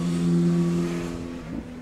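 The V8 engine of a Mercedes-Benz SL 500 R230, running on ethanol, gives a smooth, steady low drone that eases off, then swells briefly near the end, heard close with no voices.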